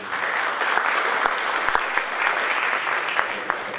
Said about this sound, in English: So, round of applause for yourselves as Iowans.